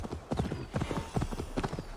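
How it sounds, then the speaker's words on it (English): Horse hooves clip-clop steadily while riding in Assassin's Creed Valhalla on Xbox Series X, a close, even trotting rhythm that lasts about two seconds. "Yeah, horsey, yeah."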